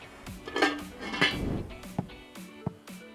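A metal lid goes onto a cooking pot of creamy mussels with a clattering scrape, followed by a few light metallic clinks and taps, all close and fairly quiet.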